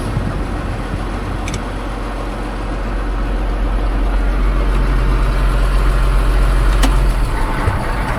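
A tractor engine idles steadily after the throttle is pulled down and the PTO is shut off during a Texas cotton harvest at night, a low continuous rumble that holds throughout with no talking.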